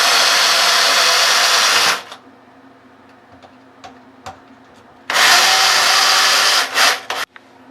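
A power drill runs in two loud bursts of about two seconds each, driving screws back into the cover plate of a Moen/Delta shower and tub valve during repair, with quiet handling noises and small clicks in between.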